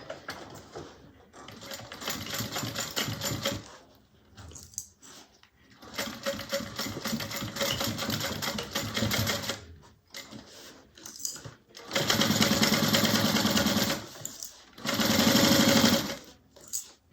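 A sewing machine stitches a bag seam at a 3/8 inch allowance in several fast, steady runs, each cut off by brief stops, loud and close.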